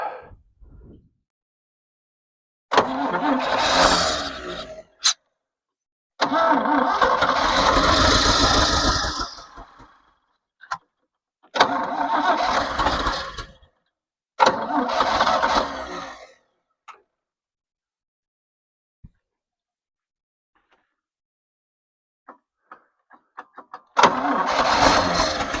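The engine of a 1977 Chevy C65 oil rig truck cranks and fires in repeated bursts of a few seconds each, roaring briefly then cutting out, with silent gaps and faint clicks between attempts, close and loud.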